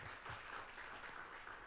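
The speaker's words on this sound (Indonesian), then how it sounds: "Ayo beri tepuk tangan yang meriah buat Tuhan." Church congregation clapping together during a worship service, a steady, fairly faint wash of applause that holds for the whole moment with no pauses.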